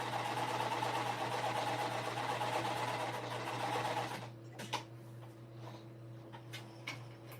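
Sewing machine stitching with a steady, fast mechanical whir for about four seconds. It then stops, leaving a few faint clicks and taps.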